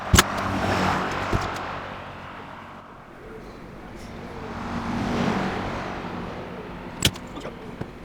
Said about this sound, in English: Got a truck speeding by.